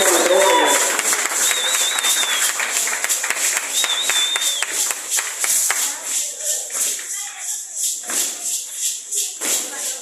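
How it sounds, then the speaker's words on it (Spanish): An audience applauds young dancers at an outdoor folk dance performance from eastern Panama, a dense crackle of clapping that carries under a loud voice and fades into rhythmic shuffling. "Un aplauso para nuestros jóvenes, para nuestra juventud"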